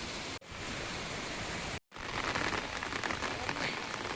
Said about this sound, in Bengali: বৃষ্টিও পড়ছে